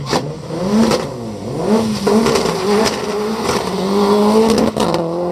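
A Toyota Celica Group A rally car engine revs hard and close, with rising and falling pitch as it accelerates through the gears and crackles and pops on the overrun.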